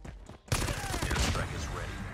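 A deployed sentry gun in a shooting video game opens fire in a sudden dense burst of rapid automatic shots, loud and continuous for under two seconds after a brief quieter lead-in.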